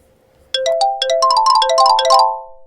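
Bright GarageBand software xylophone notes ring out in a quick, overlapping run after a brief silence, loud and close, then decay.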